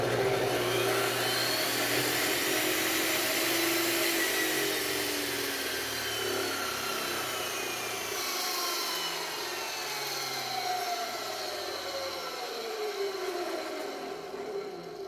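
A power saw and a vacuum soft-started together through a shared soft-starter, a steady close whirring drone that ramps up in pitch with rising and falling motor tones, running continuously.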